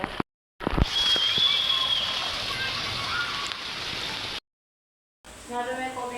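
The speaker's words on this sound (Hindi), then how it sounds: "इतनी तेज़ ऊपर से पानी आ रहा है, छत का जो पानी है ना नीचे आ रहा है सारा" Heavy monsoon rainwater pours off a roof in a steady, loud rushing splash, with short gaps of silence and a voice speaking near the end.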